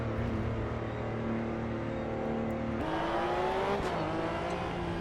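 A Porsche Cup race car engine in a racing video game drones steadily at moderate level, with its pitch stepping up sharply partway through as the revs climb, no talking over it.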